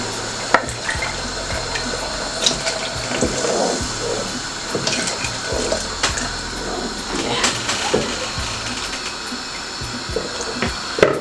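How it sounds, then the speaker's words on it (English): Meat stock water poured into a cooking pot for carrot stew, a steady splashing, trickling pour close by with clinks and kitchen clatter, no talking. "the stock water of the meat. I'll pour it inside."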